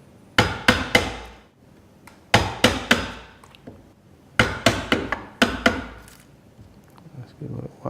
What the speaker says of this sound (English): it's not even leaving a mark with the hammer